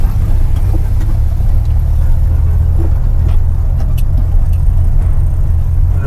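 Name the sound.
car engine sputtering while driving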